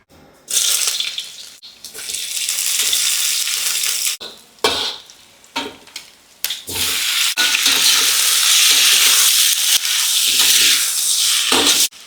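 Sausage pieces fry in a pan with vegetables and sweet soy sauce, giving loud, close sizzling that swells and drops in bursts, broken by brief stirring pauses.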